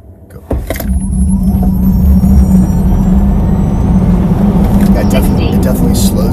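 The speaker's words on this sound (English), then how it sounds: "we're gonna do a track mode drag strip launch" Tesla Model S Plaid launching down a drag strip in track mode with the race preset: a sudden surge at the start builds into a loud, sustained electric drivetrain whine and rushing road and wind roar, heard from inside the car.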